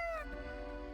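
A cat in the video game Death & Taxes gives one short, faint meow that falls in pitch, then leaves a quiet, humming backdrop.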